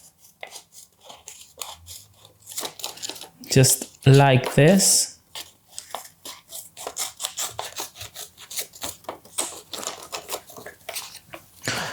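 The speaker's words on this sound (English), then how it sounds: "We're going to cut with the help of the scissors this currency, okay?" Scissors snip through a paper Monopoly play-money bill, a short burst of crisp cutting and rasping strokes mid-clip, with a person talking throughout.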